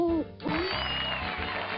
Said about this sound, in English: It's the hoot, hoot, hoot of the great horned owl.